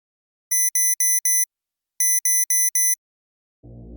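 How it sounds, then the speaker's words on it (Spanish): An alarm clock rings with two bright electronic groups, four quick beeps and then four more, loud and close in a quiet room, followed by a low rumble at the end. "La alarma sonó"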